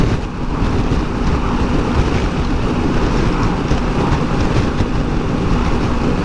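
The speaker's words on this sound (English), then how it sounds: "hoping the side wind doesn't fuck up the microphone" Loud, continuous wind buffeting the microphone in a side wind while riding a Honda Africa Twin motorcycle on the Isle of Skye, a steady rushing roar with no talk.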